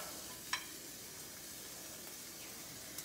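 Bison meatballs dropping into hot avocado oil in a pan give a steady soft sizzle and hiss, with a sharp crackling spit near the start and another near the end, faint and close.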